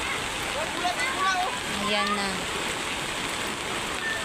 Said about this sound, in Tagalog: Ganito pag sobrang lakas ng ulan sa bundok.